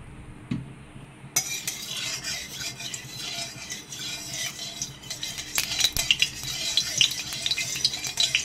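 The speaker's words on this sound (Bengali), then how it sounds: "কড়াতে আমি সর্ষের তেল দিয়ে দিচ্ছি।" Mustard oil heats in a hot kadai with a soft, steady crackle and light sizzle, broken by occasional close clinks and scrapes of a utensil against the pan; no one speaks.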